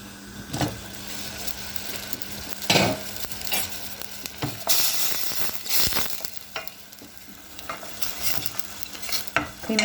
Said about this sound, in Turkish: Şimdi bakalım kıymamız ne durumda bir karıştıralım